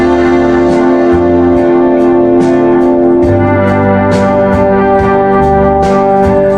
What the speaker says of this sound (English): this synth that was just like dancing underneath the